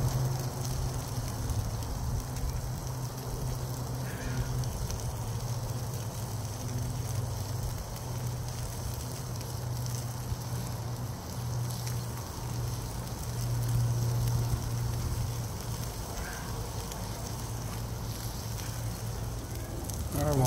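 Jalapeno Spam slices frying in a pan give a steady, soft sizzle with faint crackles, continuous and unchanging at close range.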